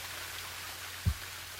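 Steady soft rain hisses evenly in the background of the video game Ame No Marginal, with one low thump partway through.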